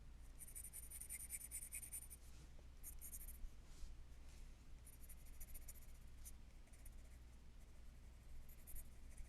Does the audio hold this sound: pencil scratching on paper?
yes